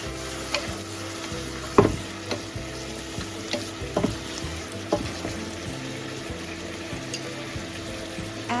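Bok choy and mushrooms sizzling in a hot pan after oyster sauce and dark soy sauce go in, a constant close frying hiss with periodic spatula scrapes and taps, no voices.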